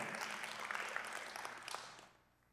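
Church congregation applauds during a sermon, a faint, dense patter of clapping that holds for about two seconds and then dies away.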